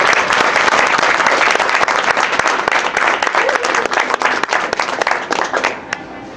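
Loud, dense applause from a Toastmasters club audience fills the room, with many hands clapping steadily before tapering off near the end.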